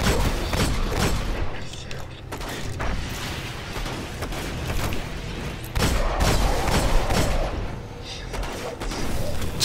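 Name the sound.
grenade explosions and gunfire in the video game Destiny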